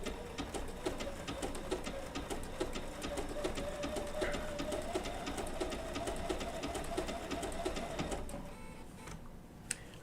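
A Bernina B790 PRO sewing machine with a 20C open-toe foot stitches twill tape down along a seam, running in a fast, even mechanical chatter up close before slowing near the end.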